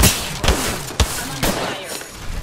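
Rapid gunfire in the video game Apex Legends, with several sharp shots a fraction of a second apart over a dense, loud game soundscape.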